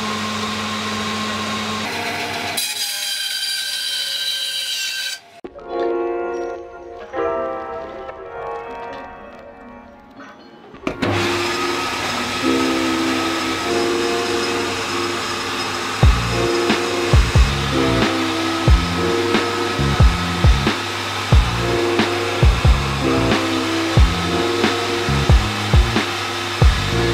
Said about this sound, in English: It was more like a fun machine that could do the job, but it's really noisy